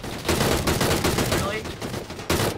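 Bursts of rapid gunfire in the battle royale game PUBG, loud repeated shots in quick clusters with brief gaps, alongside players' voices.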